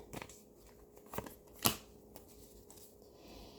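Tarot cards are shuffled by hand in a series of soft, papery riffles and slaps, spaced irregularly, close and fairly quiet, with no talking.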